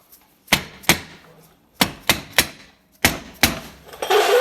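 Sharp metallic taps knock at the brake plate of a Honda TRX ATV wheel hub, about eight close, ringing hits in small bursts, followed by a brief rustle at the end.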